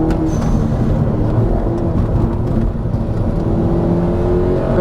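A VW Golf GTI engine pulling hard under acceleration, a loud continuous drone and whir from inside the car, steady and powerful with no talk over it.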